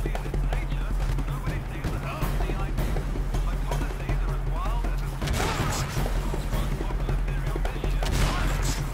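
Gunfire in Crysis: Warhead, with shotgun blasts mixed into a busy combat soundscape with a steady low hum and rapid impacts, loud and close.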